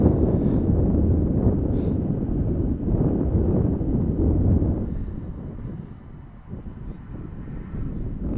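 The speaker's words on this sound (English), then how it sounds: "And just like that, the wind picks up again." Wind gusts buffet the microphone at an outdoor baseball game between Nova Scotia and New Brunswick, a loud, close, low rumbling roar that swells and eases in waves without a break.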